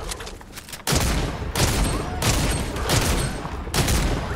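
Video game gunfire rattles in loud, close bursts of rapid shots, separated by brief gaps, with a short quiet moment before the first volley.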